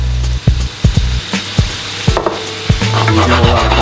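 Paprika being stirred into a sizzling butter garlic prawn pasta sauce in a pan, steady frying hiss under a series of sharp spoon scrapes and knocks at irregular intervals, close and fairly loud, no voices.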